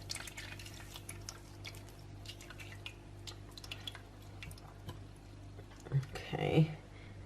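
Fresh lime juice squeezed by hand through a sieve into a bowl while making lime curd, giving soft scattered drips and a brief wetter trickle near the end over a quiet kitchen background.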